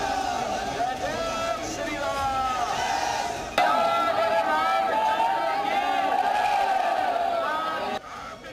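A large crowd of Bihar residents at a Yogi Adityanath road show, a dense, continuous roar of chanting and shouting voices held close and loud throughout, swelling briefly near the middle.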